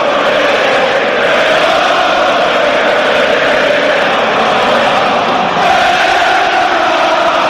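A huge stadium crowd of Newcastle United fans roars and chants in unison at a Carabao Cup match against Arsenal, a dense, continuous wall of voices with no pauses throughout.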